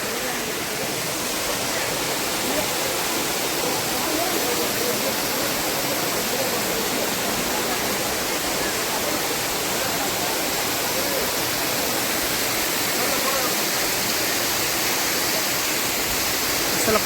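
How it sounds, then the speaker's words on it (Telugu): Talakona waterfall near Tirupati roars in a thick, unbroken wash of falling water, loud and close, holding steady from start to finish with no voices. "ఇదిగో మనం తెలకోన వాటర్ ఫాల్స్కి అయితే వచ్చేసాం"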